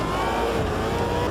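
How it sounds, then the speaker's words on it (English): V8 Supercar race car in Automobilista 2 lapping the Nordschleife, engine roaring loud and steady at high revs, close up and alone without talk. "This is a race car."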